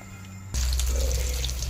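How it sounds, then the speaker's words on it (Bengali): Young eggplant frying in oil in a wok: after a quiet start, a loud, close, continuous crackling sizzle sets in abruptly and keeps going, with no talk. "চরবর চরবর করে তেলে ফুটছে বেগুন"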